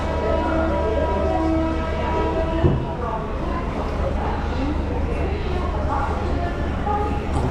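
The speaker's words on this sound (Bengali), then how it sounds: "ট্রেনটা বন্ধুরা 2 নম্বর প্ল্যাটফর্মে দাঁড়িয়ে আছে, দেখো ছেড়ে দেবে এক্ষুনি।" A train's engine rumbles and hums steadily at platform 2 of a station as it prepares to depart, with faint voices and platform noise in the background.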